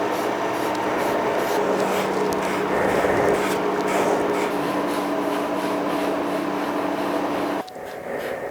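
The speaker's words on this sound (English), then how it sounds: "I got to get these out of the clamps and sand them." Sanding a wooden beer flight board, a continuous close scratchy rubbing against a steady background hum that cuts off abruptly near the end, leaving the quieter hum.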